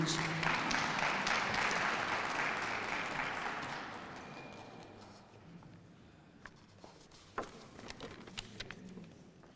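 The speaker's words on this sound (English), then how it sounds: "With a round of applause, let's welcome him as he comes up on stage." An audience applauds a speaker walking onto a stage at a lightning-talk event, the clapping loud and dense at first, then thinning and fading out over several seconds into scattered claps and a few footsteps.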